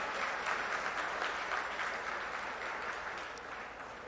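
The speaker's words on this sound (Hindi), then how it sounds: "जोरदार तालियों में" Loud, dense applause from a large crowd at a Lok Sabha election rally in Kurukshetra, sustained clapping that holds steady for several seconds and fades slightly toward the end.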